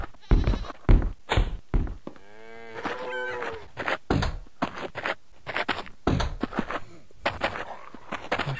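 Sheep in the video game Survivalcraft 2 bleat on a farm while being sheared, giving a clear wavering bleat amid a run of loud thumps and clicks, close and with no talk over it.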